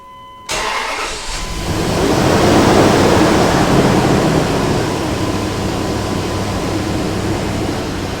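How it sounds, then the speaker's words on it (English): The engine of a Dodge Durango with a newly fitted fan clutch starts abruptly, then the cooling fan roars loudly in a broad whooshing rush that swells and gradually eases into a steadier idle drone. "after approximately half a minute's worth of idle time here, the fan has already started to slow down and you can barely hear it running anymore"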